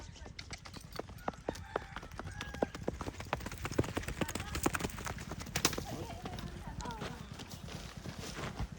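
A mare walks with steady, close clip-clopping hooves throughout, with people talking and a voice over the hoofbeats.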